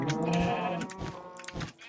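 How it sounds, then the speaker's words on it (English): A cow in the video game Minecraft lets out a short, nasal, bleating moo up close, a couple of harmonic calls in quick succession over a quiet game background. "Shut up, cow."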